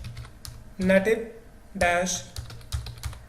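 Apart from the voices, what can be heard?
typing a command on a computer keyboard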